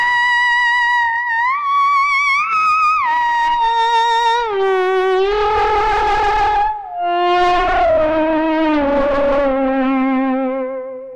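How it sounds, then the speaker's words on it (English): Soma Labs Flux synthesizer pushed to extreme synthesis settings, producing loud, bright, bending tones that glide and jump in pitch, with distorted, echoing textures and dense bursts layered over sustained notes. "if I flip in the bow, I will go to, like, let's say, extreme settings of synthesis"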